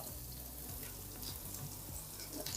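Chopped garlic sizzles steadily in two tablespoons of butter in a pan over low heat, with an even, close crackle and faint stirring and no voices.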